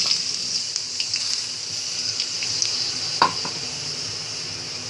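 Finely chopped onions go into hot ghee in a karahi and fry with a steady, close sizzle, with light stirring and a couple of brief clinks of a spoon against the pan.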